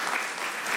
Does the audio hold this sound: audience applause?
yes